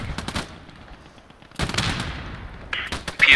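Gunfire in the World War II shooter Post Scriptum during an Arnhem match: several sharp shots and short bursts crack out, some close and loud, others more distant, echoing across the battlefield with no talk.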